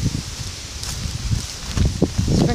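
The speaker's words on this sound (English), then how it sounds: "it's pretty windy out" Wind gusting outdoors on a breezy spring day, a steady rushing bluster with rustling and microphone buffeting that swells louder toward the end.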